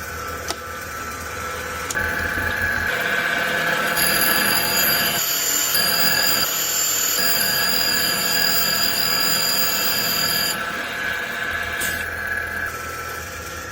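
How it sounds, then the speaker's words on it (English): A valve grinding machine runs steadily while refacing a small block Chevy intake valve to 45 degrees, giving a loud continuous mechanical whine and grinding hum with a higher-pitched tone that comes and goes in the middle. "So I'm going to be grinding the valve to 45 degrees."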